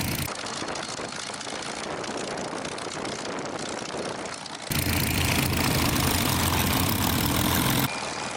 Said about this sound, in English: take my number 2 spot beside lead as we warm up the engines